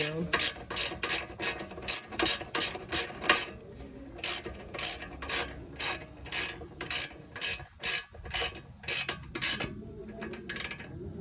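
Ratchet wrench tightening bolts on a 2008 Honda Accord passenger CV axle, a rapid run of sharp metallic clicks in bursts with short pauses between strokes, close and clear.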